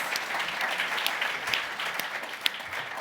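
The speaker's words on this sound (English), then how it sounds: "A round of applause for our panel." Steady round of applause from a conference audience for a panel at a methane emissions event, dense clapping sustained evenly throughout with a few sharper claps standing out.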